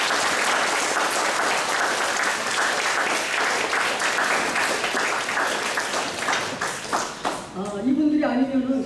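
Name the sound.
audience applause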